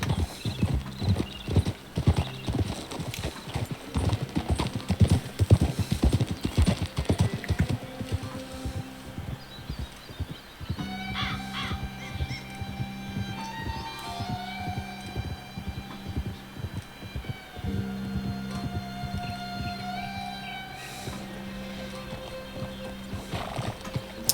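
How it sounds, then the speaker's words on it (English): Horse hooves clip-clop steadily while riding in Red Dead Redemption 2, a continuous rhythmic trot up close, with a horse whinnying and ambient game music or hum in the background. "can you imagine riding everywhere on horseback?"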